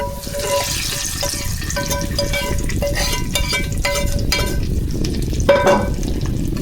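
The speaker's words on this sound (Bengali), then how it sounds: "এখন এটা আমি ফোড়নটা এই যে এর মধ্যে সবজির মধ্যে দিয়ে দিব" Fried onion tempering tipped into a pan of winter vegetables for a Bengali sabji bhaji, giving a steady loud sizzle that runs throughout, with faint scraping and clinking of a utensil on the pan.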